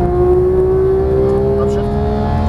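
A Porsche 911 GT3 accelerates at full power on a race track, its engine holding a steady, loud, rising tone close to the microphone while a voice talks over it.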